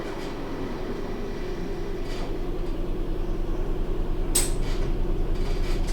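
Steady rumbling ambience of a train in motion, with a low continuous drone and faint clattering, a brief bright metallic squeal near the end, swelling slightly louder over time; no voices.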